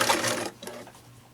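A sewing machine begins stitching a tube scarf: a loud, steady mechanical whir for about half a second, then quieter soft clicks and hum, alone with no talk.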